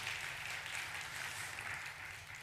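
Applause from a congregation at a Friday church prayer meeting, a soft, steady patter of many hands sustained throughout, faint and somewhat distant.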